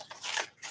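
Scissors make two or three quick, close snips as they cut something down a little, a soft crisp rasp in a quiet room.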